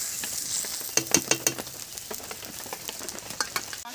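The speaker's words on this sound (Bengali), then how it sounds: "টক টক করে ফুটছে দেখুন।" Rohu fish kalia gravy, with a little water added, bubbles and sizzles in a cooking pan: a close hiss broken by a quick cluster of bubbling pops near the start, then lighter spattering.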